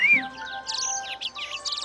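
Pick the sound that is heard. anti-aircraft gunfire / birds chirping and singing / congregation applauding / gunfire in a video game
birds chirping and singing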